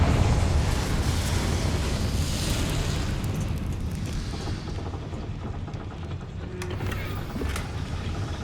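A Confringo spell explodes in Hogwarts Legacy as a loud, sustained blast of broadband rumble and crackle that slowly fades, with small pops and creaks near the end.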